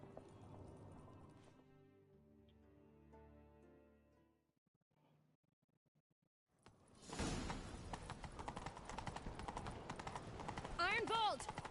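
Horse galloping in The Witcher 3: Wild Hunt, a rapid, loud clatter of hooves that kicks in after a quieter stretch of music and dialogue, continuing fast and driving under character voices.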